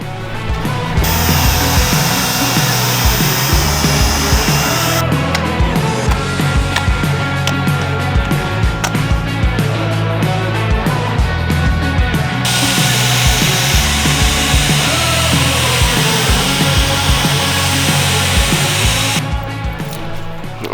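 A power tool buffing scratches out of the body of a 2003 Chevrolet Silverado truck runs loud and continuous with a steady whirring drone, its pitch and intensity shifting slightly as it works, no talking.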